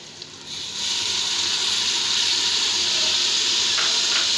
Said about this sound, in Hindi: चॉप किया हुआ टमाटर डालूँगी।